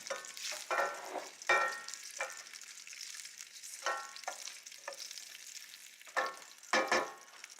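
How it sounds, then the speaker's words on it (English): Garlic fries in a pan, a close, steady sizzle that swells and crackles in bursts as it is stirred, with no talk. "Let the garlic become golden."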